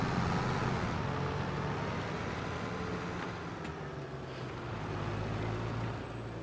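A Claas Axion tractor driving in the Farming Simulator 22 video game, its engine a steady, even drone that holds at the same level for the whole stretch with no voices.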